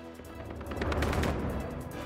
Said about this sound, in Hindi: लोगों पर पिस्तौल से फायरिंग करता दिखा एक आरोपी